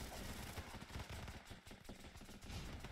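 Gunfire in the top-down shooter game Running With Rifles: rapid bursts of automatic shots crackle continuously, faint and distant-sounding, with no talk.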